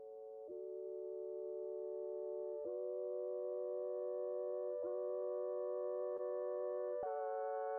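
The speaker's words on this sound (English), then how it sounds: "Some doubler chorus effect and some reverb over here and some sidechain. And it creates a lush texture of pads." Sustained layered synth pad chords with chorus and reverb, loud and steady, shifting chord every couple of seconds with brief sidechain-style dips between them, alone without any voice.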